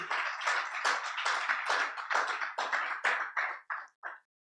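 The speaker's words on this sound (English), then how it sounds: "please put a round of applause for them" Clapping from a conference audience for headline sponsors at a property investment event, a brief round of applause in distinct bursts that thins out and stops within a few seconds.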